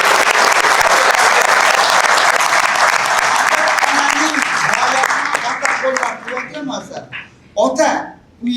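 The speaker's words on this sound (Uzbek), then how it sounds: "Kelinglar, otalarga qarsak chalaylik." An audience applauds the fathers in loud, sustained clapping that thins out over the last seconds as a voice begins speaking through the fading applause.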